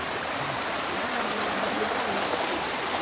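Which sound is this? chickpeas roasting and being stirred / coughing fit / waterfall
waterfall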